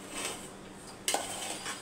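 Cooked rice stirred and mixed in a metal pot with a utensil while preparing meal maker biryani, soft scraping and a sharp clink of metal against the pot partway through, close and fairly quiet.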